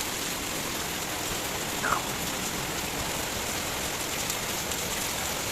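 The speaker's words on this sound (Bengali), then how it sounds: "বিশাল জোরে বৃষ্টি চলে এসছে।" Heavy downpour drumming steadily on a rooftop garden, a dense unbroken hiss of rain that stays loud and even throughout with no talking.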